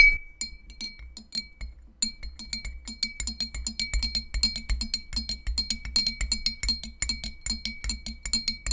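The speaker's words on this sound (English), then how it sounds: "We'll give her a stir." A spoon stirs a keto energy drink in a glass, rapid repeated clinks ringing close and loud, briefly pausing then continuing in a fast rhythm, with no talk.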